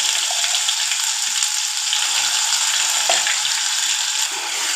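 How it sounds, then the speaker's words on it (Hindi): Ground spice paste for lauki kofta curry hitting a hot pan with mustard seeds, a loud continuous close-up sizzle with occasional crackles and no voices. "अब इसी में डाल लेते हैं ये पिसा हुआ मसाला।"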